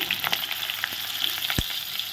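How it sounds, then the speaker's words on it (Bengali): Potatoes frying in hot oil in a wok, a steady bright sizzle with crackling pops throughout and one sharp knock partway through. "আমি এখন আলুগুলো ভেজে নিচ্ছি আর আলু ভাজা হচ্ছে"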